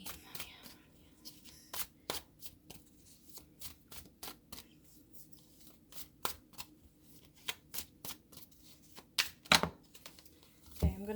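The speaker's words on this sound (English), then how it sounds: "I'm gonna pick some cards from here." Tarot cards are handled and picked in a steady run of crisp, close snaps and flicks, irregular but frequent, with a few louder slaps near the end and no talking.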